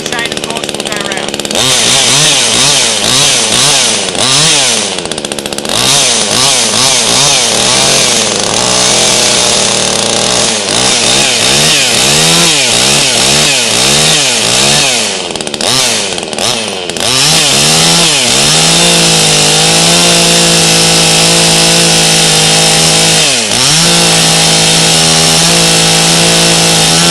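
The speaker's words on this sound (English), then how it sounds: "We can now operate the saw by pulling the trigger," A chainsaw runs loud and close throughout, its engine revving up and down in repeated surges as the chain goes round, then settling into a steadier high drone toward the end.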